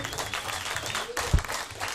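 A studio audience applauds a singer during a live morning radio broadcast on Fréquence Plus: a dense, steady wash of clapping with a sharper burst near the end, lightly overlaid by a voice.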